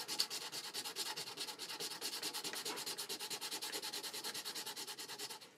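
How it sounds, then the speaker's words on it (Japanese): A broken toilet seat is sanded by hand with quick, even back-and-forth strokes, a close, rhythmic rasping that repeats steadily with no voices. "そして便座を、そこからの便座やすりですよ。"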